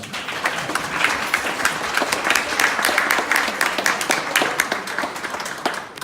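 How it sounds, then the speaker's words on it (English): Audience at a grand re-opening celebration at Somerby of Mt Pleasant breaks into steady applause, dense overlapping claps sustained loudly for about six seconds before tapering at the end. "Let's give all of them a round of applause."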